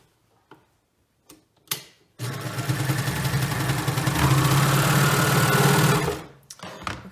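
Sewing machine stitching the shorter side of a bomber jacket sleeve cuff, a steady close mechanical whir running about four seconds with a faint rising hum midway, framed by a few brief clicks and handling taps before and after.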